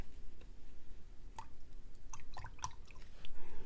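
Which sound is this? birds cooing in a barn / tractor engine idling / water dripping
water dripping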